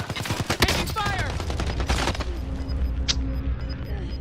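Gunfire in the Call of Duty Warzone video game: a rapid burst of loud, close shots over the first two seconds, then a steady rumble of game ambience with a faint distant crack.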